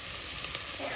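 Ginger garlic paste fries in a pan with a steady, bright sizzle and hiss, close and continuous for about a second.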